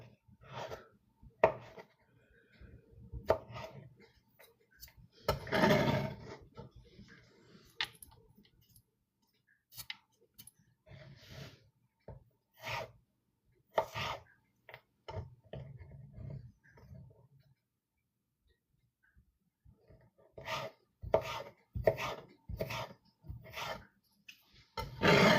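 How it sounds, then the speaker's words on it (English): A knife chops garlic cloves on a cutting board at home, sounding as bursts of sharp, close taps and clicks that come in irregular clusters with quiet gaps between them. "watching me cut garlic"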